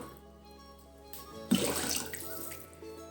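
Water is poured into a cooking pot to make rice gruel (ganji). After a quiet start, the pour begins midway as a close, splashing stream that gradually settles. No one talks.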